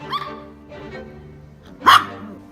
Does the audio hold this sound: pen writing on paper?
no